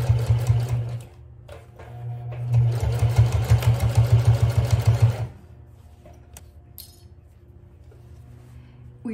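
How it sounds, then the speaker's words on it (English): A sewing machine stitches a bag at a 4.5 stitch length, running in two fast rhythmic bursts of needle clatter close by, then stopping into quiet with small clicks. "I'm here on the sewing machine, and let's start sewing"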